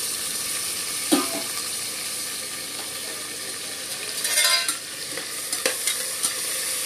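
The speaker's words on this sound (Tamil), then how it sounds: "எண்ணெய் காயும் கடுகு, கருவேப்பிலை, கருவேப்பிலை நல்லா பொரிஞ்சதுக்கப்புறம்" Mustard seeds and curry leaves fry in hot oil for a village-style kari kuzhambu, giving a loud, close, continuous sizzle with crackles and a few sharp stirring scrapes against the pan, and no speech.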